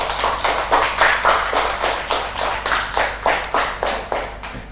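A classroom group claps in a short burst of rhythmic applause, about a dozen even beats in unison, close and lively, with no voices over it.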